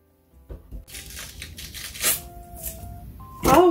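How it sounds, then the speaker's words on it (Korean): Scissors snipping through flounder flesh and bones in a few short, crunchy cuts, close by, with some crinkling plastic and small handling noises around them. "이 살쪽까지 이렇게 같이 가위로 잘라."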